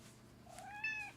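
A pet cat gives a single short, quiet meow indoors, rising then falling, with no other sound around it.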